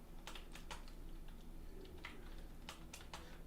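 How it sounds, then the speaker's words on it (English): Typing on a computer keyboard placed close to the microphone: quiet, irregular clicks and clacks of keys in quick bursts over a steady background hiss, with no talking. "You guys love the typing sounds, I'm sure."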